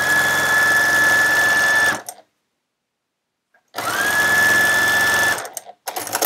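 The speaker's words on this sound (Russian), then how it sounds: "Я пришиваю до следующего угла и останавливаюсь в 6 мм от края." Sewing machine stitching patchwork fabric edges for a fabric greeting card, running in two steady bursts of about two seconds each with a quiet pause between, close and alone.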